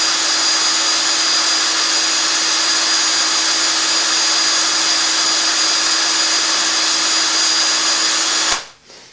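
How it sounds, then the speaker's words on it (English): A Black & Decker power drill driving a Lego cue lathe whirs at a constant high speed for several seconds, then cuts off and spins down abruptly near the end. "The Cue Lathe made out of Legos and a Black & Decker drill."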